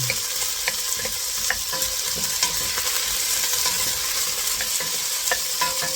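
Onions and aromatics sizzle and fry in a pan for salmon head sinigang, a steady close crackle broken by occasional stirring clicks and scrapes, with no voices.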